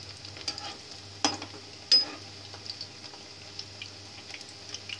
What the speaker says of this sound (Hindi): गोभी को हम फ्राई कर लेंगे